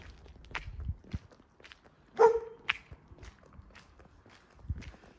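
A single sharp dog bark cuts through a quiet outdoor scene in a small French town, surrounded by scattered footsteps and faint shuffling.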